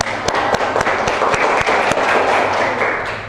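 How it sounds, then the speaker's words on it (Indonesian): Students clapping together in a classroom after a group presentation, a close, loud wash of applause with a few sharp individual claps standing out before it slowly eases off. "Tepuk tangan semuanya."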